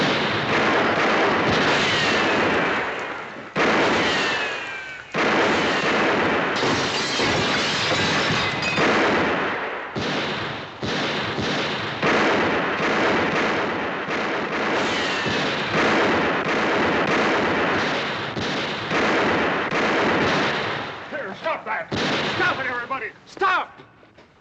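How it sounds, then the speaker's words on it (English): Gunshots fired over the heads of approaching riders in a Western drama, a dense, loud volley of rapid cracks and booms running almost continuously alongside shouting and talk. "Let's put a few shots over their heads."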